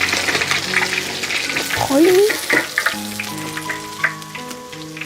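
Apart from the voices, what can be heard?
frying fish in oil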